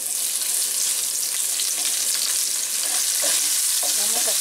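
Red onion sizzling in a pan with browned garlic, a steady close frying hiss with a few brief stirring scrapes near the end, no voices.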